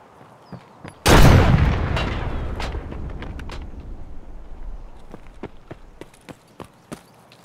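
A grenade blast in the video game Escape From Tarkov sounds one second in, a loud broadband boom that decays over several seconds, followed by scattered sharp gunshot-like cracks and clicks.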